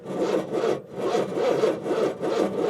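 A 1964 Impala wagon engine cranks over without starting, the starter churning in a steady rhythmic whirr with regular dips, close and loud, sounding sluggish as if from a weak battery.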